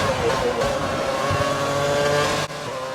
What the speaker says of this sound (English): Honestly, just take a moment to listen to these cars.